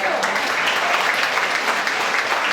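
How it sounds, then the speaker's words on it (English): Steady, dense applause from an audience honoring volunteers who pack sack suppers for Kids Food Basket, filling the room evenly and close for the whole stretch. "a round of applause for all of you"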